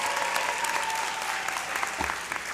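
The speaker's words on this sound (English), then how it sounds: "Now give a round of applause for yourself and make it nice and loud" A loud, steady round of applause from law school graduates at the FAMU Law annual hooding ceremony, dense and continuous clapping filling the hall from start to finish.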